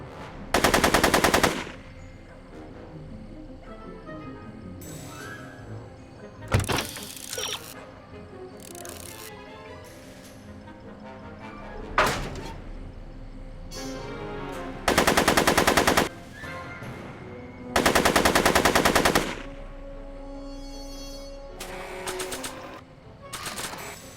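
Gunfire in the Back to the Future video game, heard as several loud, sustained rapid-fire machine-gun bursts with sharper single shots and clicks in between, all over a steady game background with no talking.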